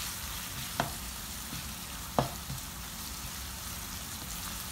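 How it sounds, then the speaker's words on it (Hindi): Garlic and ginger sauté in a pan for spicy dhaba-style keema, giving a soft, constant sizzle with two brief stirring clatters. "ये थोड़ा सा इसको हम 2 मिनट सॉटे करेंगे ताकि गार्लिक जिंजर जो है ये अच्छी तरह से इनका जो कच्चापन है वो ख़त्म हो जाए"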